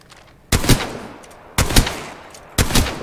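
Gunfire in the video game Apex Legends: three loud, close bursts, each about a second long, roughly one second apart, over a quiet background.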